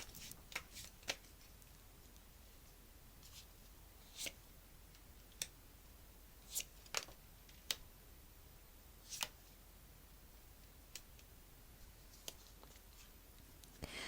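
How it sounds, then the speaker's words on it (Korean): Tarot-style cards handled at a reading table: soft riffling and scattered sharp flicks and taps as cards are shuffled and drawn, quiet and close, with no speech. "카드 뽑아볼게요."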